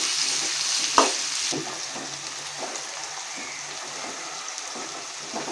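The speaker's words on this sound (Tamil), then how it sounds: "வெங்காயம் நல்லா வதங்கட்டுங்க." Onions sautéing in a pan for a spicy taro curry, a steady soft sizzle with occasional stirring scrapes and one sharp clink near the start.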